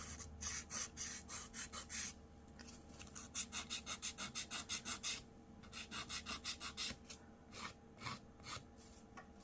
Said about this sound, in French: adoucir un peu ici en glissant notre lime comme ça